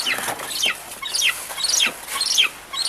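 A falcon gives rapid, repeated high-pitched chattering calls in quick bursts, close and fairly loud, with no talking.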